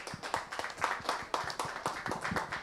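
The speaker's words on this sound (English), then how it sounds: "let's give a big round of applause to our panelists" A small audience at a science-policy session gives the panelists a round of applause, sparse, distinct hand claps in an irregular rhythm, moderately close and not very loud.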